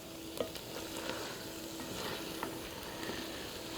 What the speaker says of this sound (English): I'm going to stir that around, and you can see almost instantly it begins to turn brown.